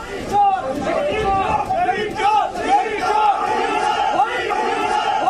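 A large political protest crowd chants slogans in unison, loud and continuous with rhythmic shouted bursts and a dense babble of many voices throughout.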